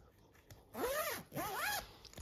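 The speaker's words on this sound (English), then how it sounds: "zip it up" A Guava Lotus travel crib bag is zipped shut in two quick, close rising pulls, each a bright ratcheting zip, with brief quiet before and between.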